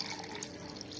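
Prawns being rinsed under running water at a sink, a steady close splashing and trickling flow with small drips, continuous and fairly quiet throughout.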